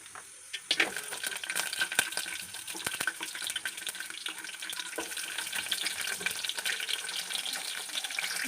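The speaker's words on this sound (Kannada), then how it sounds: "ಬೆಳ್ಳುಳ್ಳಿನ ಎಣ್ಣೆಲಿ ಸ್ವಲ್ಪ ಫ್ರೈ ಮಾಡ್ಕೋಬೇಕು" Garlic frying in hot oil in a pan on a stove, a steady bright sizzle and crackle running almost without pause from just after the start, close and fairly loud, with no talking.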